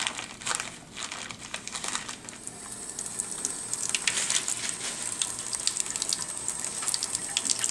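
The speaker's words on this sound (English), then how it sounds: "use a paper towel and turn on the water" Paper towel crinkled by hand at a sink, then the tap turned on so water runs and splashes steadily, close and continuous with no talking.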